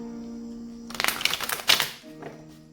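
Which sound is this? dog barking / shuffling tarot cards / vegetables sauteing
shuffling tarot cards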